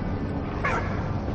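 In a video game, a single short dog bark or yip rings out midway over a constant, crackling background hum.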